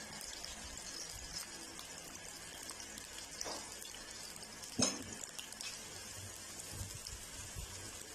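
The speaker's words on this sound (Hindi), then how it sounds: "यहाँ फुल फ्लेम पर प्याज को हम हल्का गोल्डन होने तक जो है वो फ्राई करेंगे" Three large sliced onions frying in cooking oil over a full flame for deghi chicken korma give a steady, moderately quiet sizzle, broken once by a short sharp clatter midway. No one speaks.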